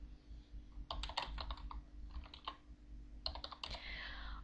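Quick bursts of typing on a computer keyboard while playing the text-based MUD Aardwolf, close and crisp clattering keystrokes in two short flurries separated by a brief pause.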